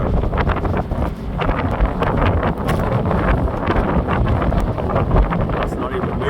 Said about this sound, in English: Just getting a gust coming through now at 31 knots